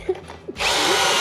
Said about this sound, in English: we have our new Blue Ion 20 volt Craig drill